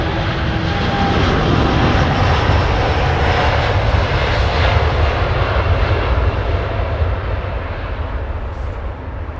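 Airliner jet engines at London Heathrow spool up into a broad, powerful roar, loud and sustained for several seconds, easing slightly toward the end.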